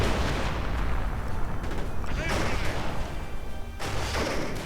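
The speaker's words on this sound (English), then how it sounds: "Grenades, mortar fire, have to count." Grenade and mortar fire in a WWII real-time strategy game match, a dense, continuous barrage of booms and gunfire crackle with sharper blasts scattered throughout, loud and unbroken from start to finish.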